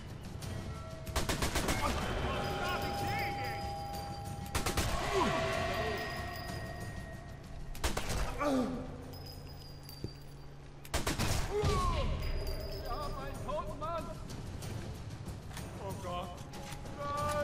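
Rapid bursts of gunfire in the video game Sniper 4 at Lorino Dockyard, several loud volleys of automatic fire separated by short pauses, with a voice talking over the shooting.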